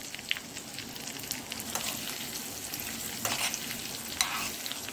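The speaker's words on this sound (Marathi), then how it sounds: "मोहरी तडतडल्या तर आपण गॅस बंद करून टाकूया." Mustard seeds crackling in hot oil for a tempering, with sesame seeds, asafoetida and large chilli pieces added, give a steady close sizzle broken by sharp popping bursts throughout.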